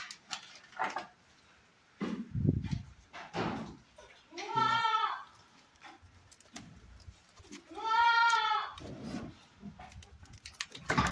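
A goat bleats twice, loud and near, during hoof trimming of its overgrown hooves, with pauses of quiet talking and handling noises between the calls.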